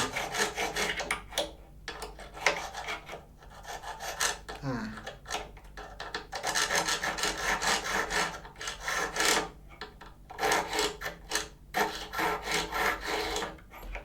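Close, repeated rasping strokes of a saw-file cutting into a guitar nut slot, in steady bursts with brief gaps between runs of filing.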